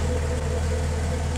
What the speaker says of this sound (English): it's got a real nice idle to it